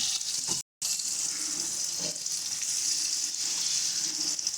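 Turmeric and salt fry in oil in a pan for mustard hilsa, a steady, close hiss of sizzling that cuts out for an instant near the start before resuming evenly.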